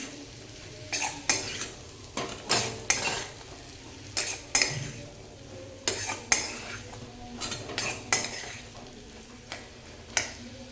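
A spatula scrapes and clanks against a pan again and again as grated sweet potato is stir-fried for a fasting-day dish, sharp metallic strokes at an uneven rhythm over a low sizzle.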